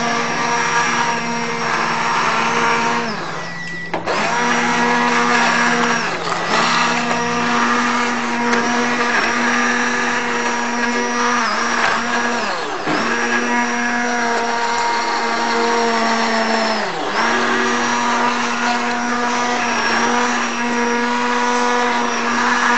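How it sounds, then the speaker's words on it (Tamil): Blender pureeing pumpkin soup, a loud steady whirring motor running for a long stretch, with several brief dips and surges in pitch as the contents shift and catch, close and with no talk. "பிளெண்டர் இருந்தா அதுலயும் பண்ணிக்கலாம்."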